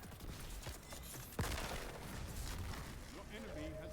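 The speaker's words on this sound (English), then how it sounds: "Sounds like a super behind us." A Super ability goes off behind the player in a chaotic Destiny firefight, a sudden sharp blast cutting through dense, continuous gunfire and combat noise.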